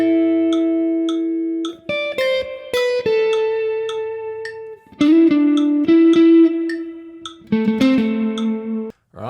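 Electric guitar plays a bluesy lick with sustained bent notes, quick picked phrases and short pauses, loud and close without any voice.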